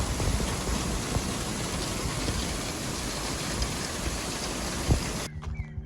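Hail and rain fall on a small homestead garden in a dense, steady patter with occasional sharper hits, loud and continuous until the sound cuts off abruptly near the end.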